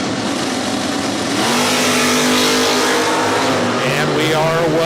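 Drag racing cars launch side by side at the Spring Fling event, engines roaring and rising in pitch through a continuous loud pass, with an announcer talking over the noise.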